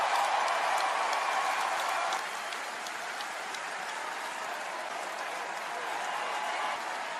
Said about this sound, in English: Wild crowd tonight, huh?